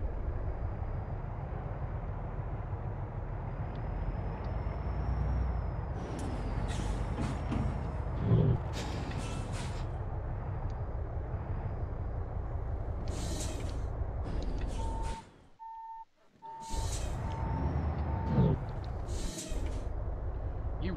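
A truck in Euro Truck Simulator 2 drops its trailer with a steady engine rumble, sharp air-brake hisses and clanks, and a brief electronic beep tone near the end.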